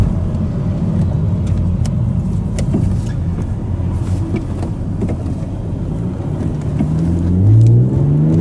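A BMW Z3 M coupe with the S54 engine drones under load while driving, with cabin rattles and clicks, then climbs in pitch as the revs rise loudly near the end.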